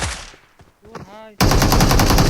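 A machine gun fires a rapid, loud, continuous burst in the PUBG video game, following a few quieter clicks and a short voice sound.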